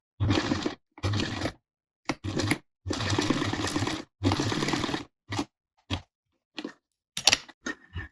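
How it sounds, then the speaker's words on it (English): A sewing machine sews the legs of a Waldorf doll in short bursts of rapid whirring stitches, with brief pauses for back tacking and a few small clicks and taps near the end, close and moderately quiet. "I'm going to position my needle and sew along that line, and I'm remembering to back tack at the beginning and the end"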